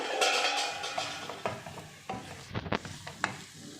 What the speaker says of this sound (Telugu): చూడండి, మనకు ఆల్మోస్ట్ ఫ్రై అయిపోయింది చికెన్